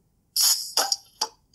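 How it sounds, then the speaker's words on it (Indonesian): Coca-Cola can-opening notification tone on a realme 10 Pro 5G Coca-Cola Edition phone: a sharp bright hiss burst followed by two short fizzy pops, clean and close with no talk. "kayak suara buka kaleng Coca-Colanya."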